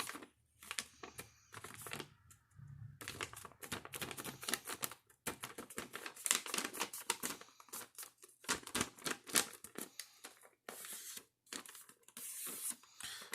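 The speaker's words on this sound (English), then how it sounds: "We're going to fold this entire piece of paper in half this way, all the way." A sheet of origami paper is folded in half and creased, giving close, crisp bursts of crinkling, rustling and sliding paper with brief pauses between.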